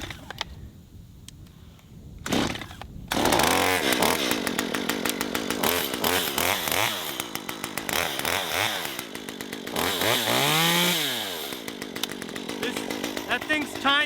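A small Echo 194T top-handle chainsaw pulls over and fires, then idles and revs up and down in rising and falling waves as it warms up outdoors beside a brush pile, loud and close with a voice talking.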